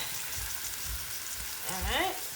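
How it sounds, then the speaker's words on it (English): Pepper, onions, scallion, thyme and garlic sizzle in hot oil for Jamaican-style peppered prawns, a steady close crackle with low bumps of stirring, and a brief voice-like sound rises near the end. "now I've got the pepper in there, the onions, the scallion, the thyme, some garlic"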